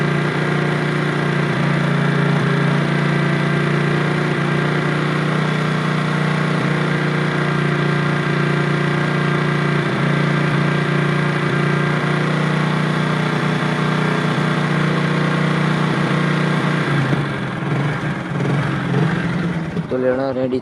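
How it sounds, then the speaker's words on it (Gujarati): A motorbike engine idles steadily to warm up, a continuous close-up hum running unchanged for most of the stretch before thinning and turning uneven near the end. "હવે થોડું ગરમ કરી દઈએ બાઇક ને એટલે ઓઇલ બોઇલ ચડી જાય બાઇક ના અંદર"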